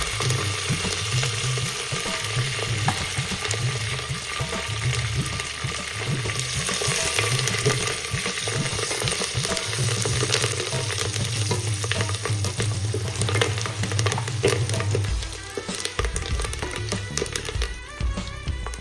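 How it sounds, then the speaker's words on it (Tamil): Chopped large onion sizzling and crackling in a hot pan while sautéing for drumstick stem soup, with steady frying noise and occasional stirring scrapes over several seconds. "நறுக்குனா ஒரு பெரிய சைஸ் வெங்காயம் பொடி பண்ணி போட்டு வதக்க வேண்டியிருக்கோம்"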